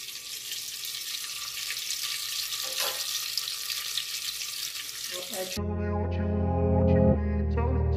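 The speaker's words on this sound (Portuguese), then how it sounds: "Fritando bacon, deixa eu mostrar pra vocês." Steady crackling sizzle of bacon frying in a pan, then a sudden cut to a louder, tonal stretch with clinks near the end.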